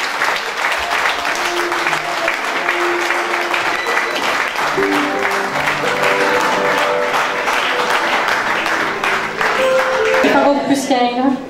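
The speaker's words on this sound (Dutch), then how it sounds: "Let's give the Lord a hand of applause." A church congregation gives sustained applause during a service, the clapping broad and continuous for several seconds, with tuneful voices or music carrying underneath and swelling near the end.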